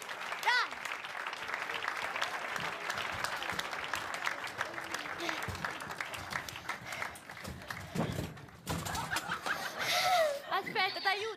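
An audience at an Italian comedy show applauds in a dense, sustained burst with scattered laughter and chuckles, while people talk over it and the clapping fades near the end.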